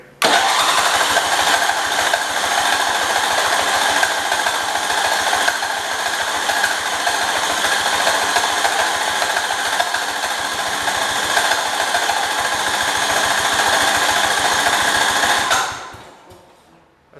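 A 1971 lawn tractor engine cranks and sputters continuously for about fifteen seconds at close range, loud and steady with a rapid chugging rhythm, then cuts off abruptly into silence.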